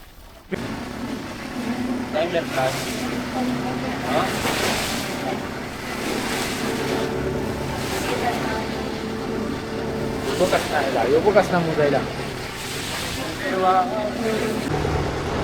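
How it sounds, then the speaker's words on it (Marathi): A fishing boat's engine drones steadily as the boat heads for shore after deep-sea shrimp fishing off Mumbai, with wind and water noise around it and people talking over it now and then. "आता बोट किनाऱ्यावर जाईल डायरेक्ट घरी"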